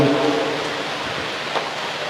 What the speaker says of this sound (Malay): Karena malamnya suasana hujan